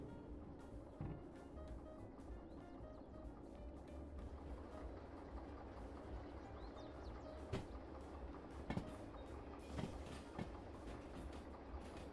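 Steady low rumble of a train rolling along rails in the Derail Valley simulator, with a few sharp clanks and rail clicks over the continuous running noise.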